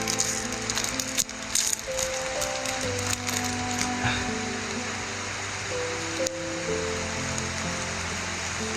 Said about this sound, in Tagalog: May ulan na dito tol.